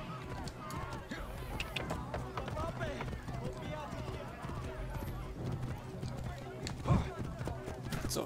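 Rapid hoofbeats of a galloping horse in the video game Assassin's Creed Origins clatter along under busy background noise and talk, with a brief louder thump near the end.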